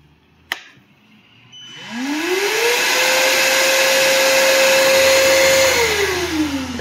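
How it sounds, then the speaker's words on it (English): A Ryobi 40V battery shop vac starts after a short silence, its motor whining up to a steady high-pitched roar with loud broadband airflow, holding constant, then spinning down near the end. "When you turn this on, there's a delay to kick on."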